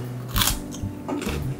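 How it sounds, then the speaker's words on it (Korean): Two quick crisp bites into a dry, crunchy jujube-flavoured meringue cookie, each a short close crackling snap, with a faint softer crunch between them. "이렇게 생긴 머랭 쿠키 한번 먹어볼까요"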